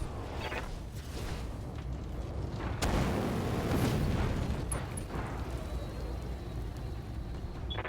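Mech destruction in the BattleTech video game: a sustained low rumble of explosions with a heavier boom around the middle, loud and continuous with no talk.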